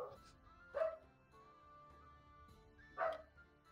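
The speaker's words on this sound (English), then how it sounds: "So is my mic sensitive enough that you're hearing my dog bark?" A dog barking down the street, two separate barks about two seconds apart, faint and distant over a quiet room hum.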